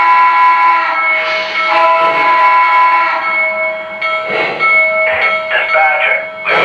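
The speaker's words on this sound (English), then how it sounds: "and the locomotive will actually start moving" A Lionel LEGACY Blue Comet 4-6-2 Pacific model locomotive starting to move, with steady mechanical hum and steam-style whistle or bell tones sounding continuously alongside a voice talking.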